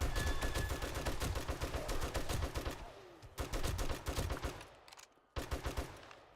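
Rapid bursts of gunfire in the survival game 7 Days to Die, loud and close, coming in repeated volleys with brief pauses between them and no talking.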